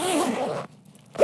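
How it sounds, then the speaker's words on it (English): A quick zipper pull on a Matsuda Article 130SE sling bag pouch, a short bright rasp lasting about half a second, then a brief pause and the start of another pull. "this thing does come with 2 zipper pulls, and it sounds so good"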